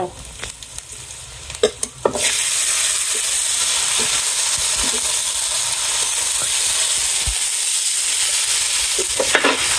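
Onion and vegetables frying in hot oil, a loud, steady sizzle that surges in after a few clattering stirs and holds continuously, with occasional scrape and clink of a utensil.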